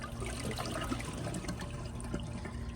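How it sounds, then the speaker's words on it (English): Water sloshing and trickling steadily as a Glacier Bay PowerFlush toilet tank is emptied, a continuous close liquid rush with faint gurgles and no voices. "I'm going to empty all the water out of the tank"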